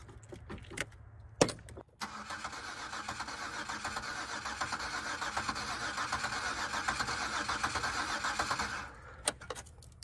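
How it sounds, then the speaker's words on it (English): A flooded Buick Rendezvous with a 3500 engine cranks steadily for several seconds and then catches, the starter's whirring grind loud and close, with brief clicks before and after. "does that crank sound uneven to you guys?"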